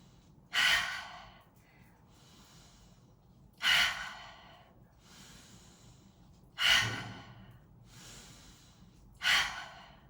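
Four slow, audible breaths during a relaxing yoga stretch, each a strong airy rush lasting about a second, spaced roughly three seconds apart, close to the mic with quiet in between.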